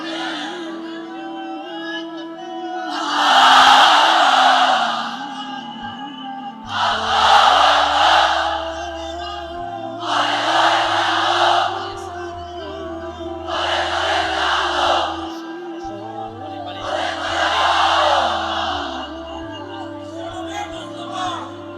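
A large crowd at a Bangla religious lecture loudly chants the takbir, 'Allahu Akbar', in five powerful shouted bursts of roughly two seconds each, evenly spaced, with a leader's voice calling between them.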